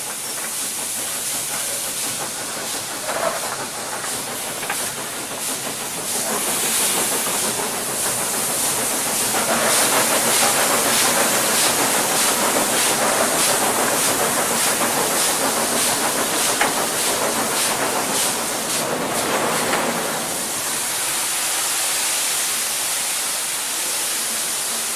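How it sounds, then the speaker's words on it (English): The King Edward I steam locomotive works hard uphill, its exhaust a continuous loud, hissing roar with rhythmic chuffs running through it over rail noise. "he wants to get the locomotive into a higher gear for the best possible traction, and works the cut-off as well as the regulator"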